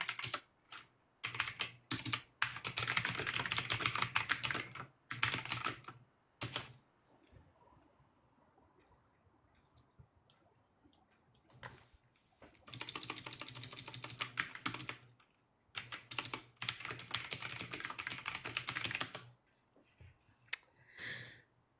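Bursts of rapid clicking on a computer keyboard come in two long runs separated by a quiet gap, close and fairly soft, with no voices over the keystrokes.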